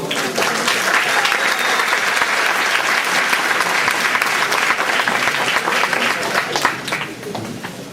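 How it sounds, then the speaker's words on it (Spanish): Audience applause at a cultural conference event, dense sustained clapping from a full room that holds steady for several seconds before tapering off. "un aplauso por favor"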